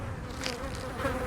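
Flies swarm over beached whales in the VR game Lies Beneath, a thick, steady insect hum heard up close that wavers slightly but never breaks, with no one talking.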